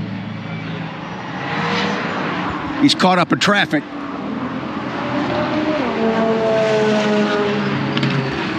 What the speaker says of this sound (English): Okay, here comes the Z06.